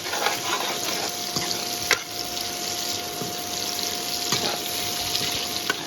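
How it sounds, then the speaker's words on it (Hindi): Chopped green chillies frying with onions in a pan for a Kashmiri dish, a continuous hissing sizzle with occasional stirring clicks, fairly close and steady with no speech. "इनको भी हम फ्राई कर लेंगे प्याज के साथ, ग्रीन चिलीज को।"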